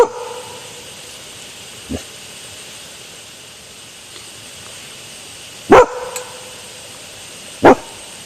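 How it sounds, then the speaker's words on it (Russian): A few sharp dog barks ring out at intervals, one early and a quick pair later, against a quiet background with a faint hiss. "Собачка пролает."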